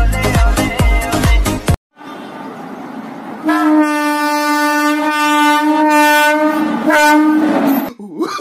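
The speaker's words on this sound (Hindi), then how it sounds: "हॉर्न सुनाई नहीं दे रहा क्या? चल निकल।" A loud train horn blares in a long sustained chord, following a burst of other noise and a brief pause, over steady rail rumble.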